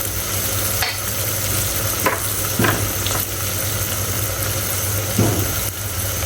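Spices with salt and dried coriander being stirred into food frying in a pan, a continuous sizzle broken by several sharp scrapes of a spoon against the pan.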